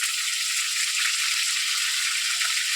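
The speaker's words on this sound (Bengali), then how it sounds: "ভালো করে মাংসটাকে নেড়ে চেড়ে ভেজে নেবো" Meat and onions fry in a pan with a loud, dense, unbroken hiss of sizzling, heard close and alone.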